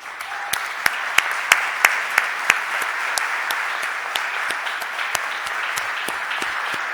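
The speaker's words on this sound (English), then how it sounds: "can we give her a round of applause?" A round of applause fills a city council meeting chamber in Philadelphia, steady dense clapping from the room with a few sharper individual claps standing out near the start, holding at an even level throughout.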